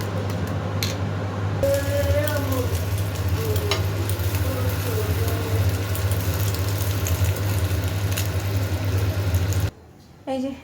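An omelette fries in a pan in a home kitchen, giving off a steady sizzling hiss under a constant low hum, with brief clattering and a voice now and then before the frying abruptly stops.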